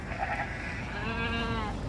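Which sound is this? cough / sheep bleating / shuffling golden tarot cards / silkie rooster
sheep bleating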